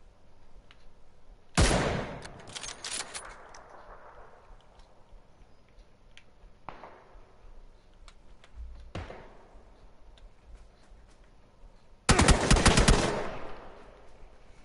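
Gunfire in the video game PUBG, a sharp automatic burst followed by a few isolated single shots and then another loud rapid burst, over a steady low background hum.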